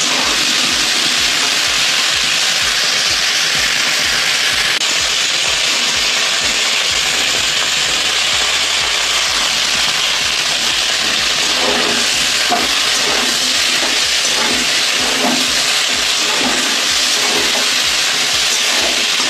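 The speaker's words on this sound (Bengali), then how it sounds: "কপিগুলোকে আমি লাল লাল করে ভেজে নিচ্ছি" Cauliflower florets fry in hot oil in a kadai, a loud, unbroken hiss and crackle that runs on for about twenty seconds with no pauses.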